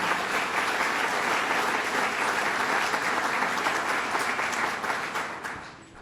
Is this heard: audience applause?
yes